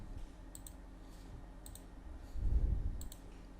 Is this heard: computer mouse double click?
yes